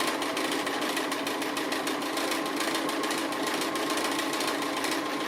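A sewing machine runs steadily, stitching a double line on a dog appliqué. A fast, even mechanical chatter holds throughout at a moderate, close level with no pauses or speech.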